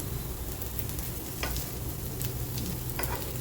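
Sabudana and potato appe fry in an appe pan, a steady close sizzle and crackle of oil throughout, with a few light scraping stirs as the pieces are turned to crisp.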